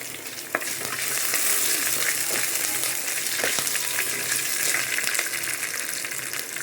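Garlic fries in a hot pan for a fenugreek-leaf saaru, sending up a constant bright sizzle with scattered crackles and soft stirring clicks close at hand, and nobody speaking.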